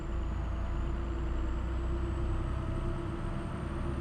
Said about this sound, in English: Yeah, that's a loud truck.